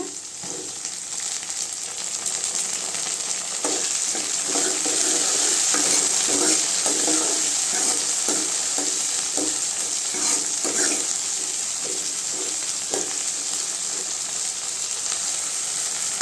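Turkey berries and chopped onions sauté in hot oil in a pan, a steady sizzle under repeated spoon stirring and scraping, close and continuous throughout with no talking.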